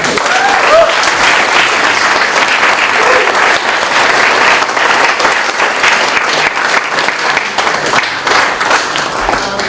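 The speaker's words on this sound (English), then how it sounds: "So please give our school committee a round of applause." An audience at a Silver Lake Regional High School event applauds the school committee, steady dense clapping filling the whole stretch at full loudness, with a few whoops rising above it.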